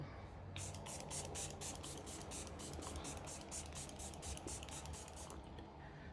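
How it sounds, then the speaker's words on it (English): Makeup finishing spray hisses in a continuous stream of rapid spritzes, close and fairly faint, with a quick pulsing pattern for several seconds and no voices. "And I'm going to take a finishing spray and do the same thing."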